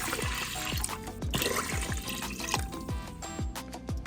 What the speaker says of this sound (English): we're gonna go ahead and drop 3 cups of water.